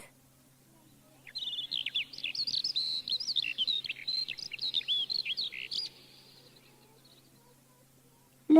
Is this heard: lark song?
yes